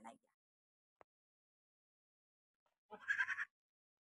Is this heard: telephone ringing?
no